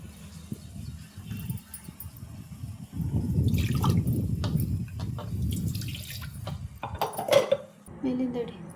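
Water poured from a washed mixer jar into a cooking pot splashes and trickles in short bursts among kitchen clatter, with a person talking over it.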